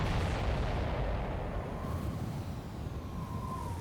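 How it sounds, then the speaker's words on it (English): A missile explosion in the video game Ace Combat 7 rolls out as a dense, sustained rumbling roar, loud and steady throughout with no speech over it. "Everybody, keep a safe distance to avoid getting caught in the explosion."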